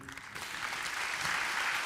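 Short burst of audience applause for an award winner at an agricultural trophies ceremony in Côte-d'Or, fairly faint and distant, swelling slightly as the clapping continues.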